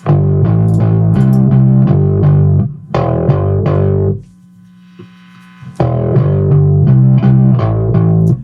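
Grungy distorted bass guitar playing a repeated riff of heavy, buzzing low notes in steady rhythm, stopping briefly to a low hum before the riff returns loud and thick.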